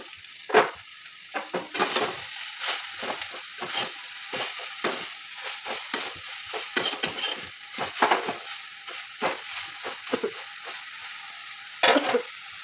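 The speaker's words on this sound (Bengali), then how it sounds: "পাতাগুলো এবার একটু ভাজা ভাজা হবে" Leaves fried and stirred in a pan with dried red chillies, a steady close sizzle broken by repeated scraping and stirring strokes, no talking.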